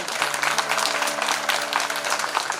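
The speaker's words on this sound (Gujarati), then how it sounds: "વગાડો જોરથી તાળી હજી" An audience clapping at a Gujarati bhajan gathering, a loud, dense, continuous wave of applause close by, with a faint sustained musical tone running underneath.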